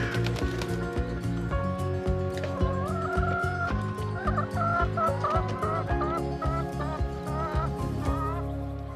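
Hens in a mobile organic henhouse holding about 250 birds, clucking and calling continuously as a dense, layered flock sound at close range, with no talk.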